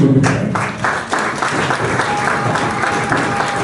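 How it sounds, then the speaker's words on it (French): Audience applause fills the room at a Congolese women's event, a dense steady wash of many hands clapping that stays loud throughout, with a few distinct claps near the start. "Est-ce qu'on peut les applaudir, s'il vous plaît?"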